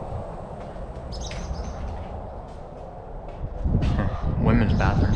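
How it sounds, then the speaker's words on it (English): Scattered high bird chirps sound faintly over a rumbling background at an abandoned, overgrown water park in Louisiana, with a person speaking nearby toward the end. "Birds."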